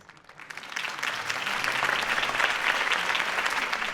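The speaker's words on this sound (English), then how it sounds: "If only Mr. Wayne, my campaign's largest backer, could have heard that applause" Crowd applause after a campaign speech in the video game Batman: The Telltale Series, swelling quickly from quiet into a dense, sustained clapping from many hands.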